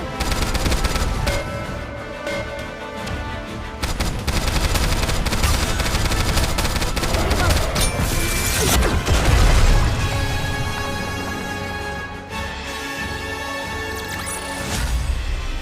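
Rapid automatic gunfire with heavy booms from the Goddess of Victory: NIKKE shooter game, loud sustained bursts running nearly the whole time over a music-like bed.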